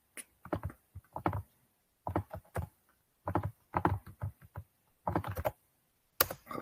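Bursts of quick typing on a computer keyboard while entering a chat message, the keys clicking in short uneven runs separated by brief pauses, close and fairly quiet.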